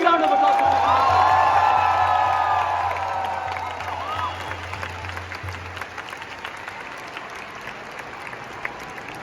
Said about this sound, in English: Big round of applause for Sadhguru.